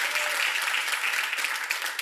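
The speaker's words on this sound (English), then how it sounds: "I always forget politicians need the clap at the end." Studio audience applauding at a British panel comedy show, a loud, dense wash of clapping from a large crowd that carries evenly throughout, with no voices over it.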